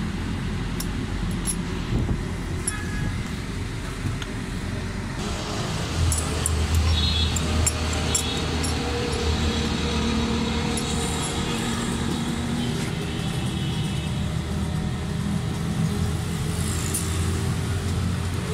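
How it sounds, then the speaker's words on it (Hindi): A Suzuki Alto 1000cc VXR with a fuel pickup misfire and tappet fault starts and idles with a steady low engine rumble, accompanied by faint ticking and clicks over a continuous mechanical hum. "गाड़ी स्टार्ट करते हैं अभी चेक करवाते हैं आपको"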